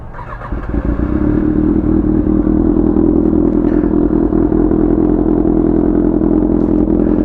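A 2022 Kawasaki ZX6R motorcycle pulls off and rides on the street, its engine rising quickly to a loud, steady buzzing drone that holds close throughout.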